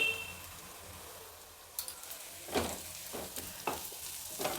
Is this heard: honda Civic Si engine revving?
no